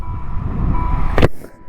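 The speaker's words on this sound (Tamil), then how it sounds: "நான் இண்டிகேட்டர் ஆன் பண்ணியிருக்கேன், ஆன் பண்ணால எனக்கு சவுண்டு வேறு கேட்குது பாருங்க" An Ola S1 Pro electric scooter's turn indicator beeps in a steady electronic tone at close range, broken near the end by a single sharp clack.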